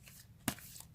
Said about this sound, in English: make sure to shuffle these cards